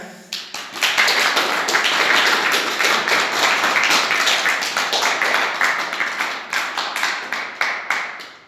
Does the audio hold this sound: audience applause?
yes